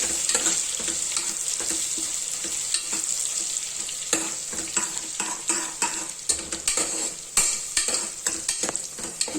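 Butter melting in a pan, with oil added, while cooking avrekalu usli, a field bean stir-fry: a steady close sizzle and hiss broken by frequent scraping and tapping of a spoon against the pan.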